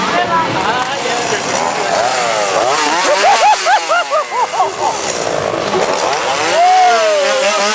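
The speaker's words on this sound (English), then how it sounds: "go with chainsaws." Chainsaws revving at a Halloween Horror Nights 2024 event, loud rising and falling engine whines that stay close and continuous, with crowd noise and voices mixed in.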